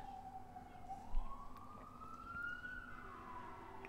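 A fire engine siren wails from a distance, a single tone sliding slowly upward and then falling back, faint but clear over low background rumble.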